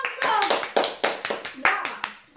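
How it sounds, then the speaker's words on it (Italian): A short round of hand clapping from a few people in a home kitchen, quick uneven claps close by that fade out toward the end. "Bravo, un applauso!"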